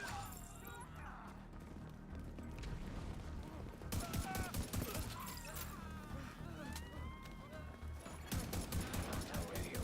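Gunfire in the PC video game The Division 2, rapid bursts of automatic fire and clattering impacts recurring through the clip, moderately loud, mixed with game radio voices and music-like tones.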